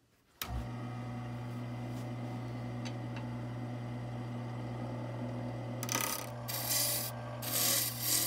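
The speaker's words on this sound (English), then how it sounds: "we're going to take a sandpaper to it" A steady rasping rub of sandpaper on a wooden rolling pin turned on a lathe continues under a low machine hum, with brief louder scratchy bursts toward the end; no voices.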